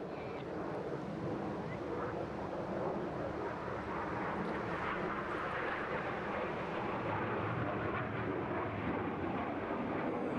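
Red Arrows display team jets roar overhead at the English Riviera Airshow 2024, a broad, steady, distant jet rumble with wind buffeting the microphone throughout.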